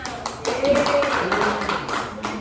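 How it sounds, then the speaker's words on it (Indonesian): A school class claps hands together in a classroom, a short burst of group clapping over a couple of seconds with a voice partly audible beneath it. "Tepuk tangan semuanya"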